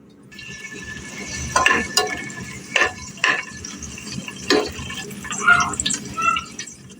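Biryani spices frying in hot oil in a home kitchen, a soft steady sizzle under intermittent clinks and stirring scrapes of a utensil against the pan, close and moderately quiet.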